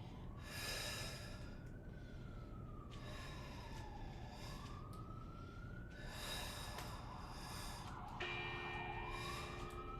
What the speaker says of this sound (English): This is the first siren I've heard outside all morning.